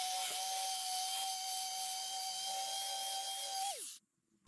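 An angle grinder whines at a steady high pitch while sanding metal table saw parts flat on an SCM Minimax SC3 sliding table saw, running loud and close, then spinning down and cutting off near the end.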